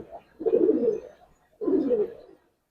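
Giribaz pigeons coo in two rounded, throaty phrases, each lasting about a second with a short pause between them, close and fairly loud with no talking.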